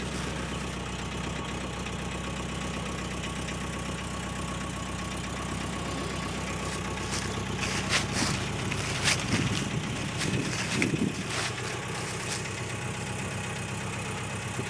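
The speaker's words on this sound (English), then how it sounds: "Still got a noisy tappet." An engine idles steadily up close with a rapid ticking, clattering tappet noise running through it, a few louder sharp clicks midway, no talking.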